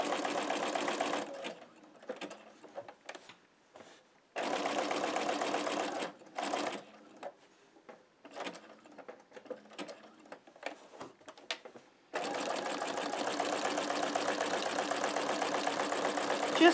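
Sewing machine zigzag-stitching down chenille fabric, running in several bursts of steady mechanical whirring separated by short pauses, with a long continuous run at the end.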